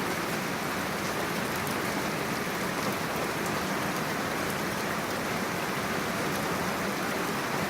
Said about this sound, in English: The sky it's filled with rain,